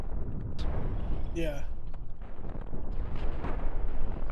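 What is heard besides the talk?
cannon fire and explosions in the video game Cosmoteer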